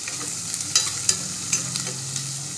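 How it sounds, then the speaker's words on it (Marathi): Onions are sautéed until red for misal, with a steady close sizzle and a few sharp scraping taps of a spatula stirring the pan. "कांदे असे लाल होईपर्यंत आपण मस्त पैकी असं छान पैकी भाजून घ्यायचं।"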